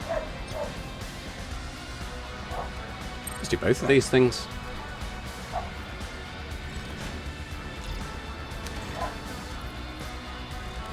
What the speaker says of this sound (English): There's another dog barking, and there's a dachshund.